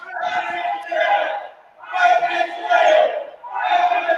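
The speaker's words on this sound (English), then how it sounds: "Why are they yelling in the crowd?" Audience members shouting loudly during a presidential debate, in three long bursts of yelling voices separated by brief pauses, close and forceful.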